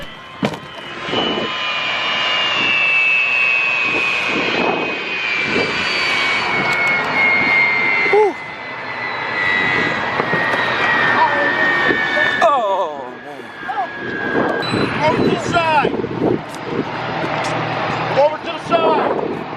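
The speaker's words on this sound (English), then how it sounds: "the Piedmont-operated jet with smoke in the cockpit lands, and the evacuation is underway" A Piedmont-operated passenger jet with smoke in the cockpit lands, its engine roar loud and steady with a falling whine, while voices talk over it throughout.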